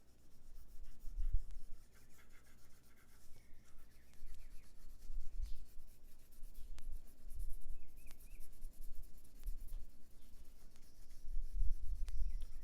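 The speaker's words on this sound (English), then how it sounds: "I'm not using the point of the pencil, I'm holding it, so I'm pressing it like the whole side of it" The side of a nicely sharpened pencil rubs across paper in soft, faint shading strokes, an irregular scratchy brushing that repeats in short bursts with no talking.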